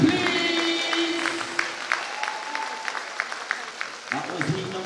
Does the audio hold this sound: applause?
yes